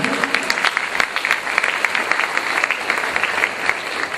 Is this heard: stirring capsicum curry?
no